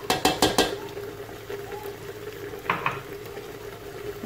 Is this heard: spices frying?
yes